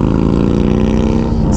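A Harley-Davidson Fat Bob motorcycle engine runs through its exhaust pipes, giving a loud, steady, deep rumble that holds throughout with no talking.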